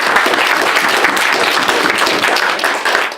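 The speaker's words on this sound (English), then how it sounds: "Please give him a round of applause." Audience applause at a Dungeons and Dragons Adventurers League event wrap-up, a steady dense wash of clapping hands throughout.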